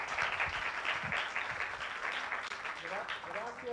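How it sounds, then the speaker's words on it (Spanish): Audience applause at a public dialogue event in Mexico City, steady dense clapping from a crowd throughout, moderately loud, with some voices mixed in. "Un aplauso también para todos."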